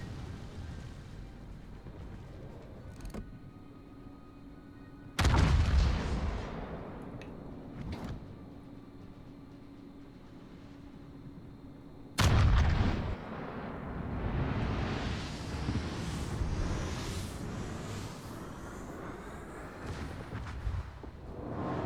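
Battleship covering fire in World of Warships, two heavy booming gun salvos several seconds apart, each followed by a long rolling rumble, over a quiet hum of ship ambience.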